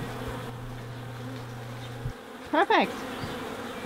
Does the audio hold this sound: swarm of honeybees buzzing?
yes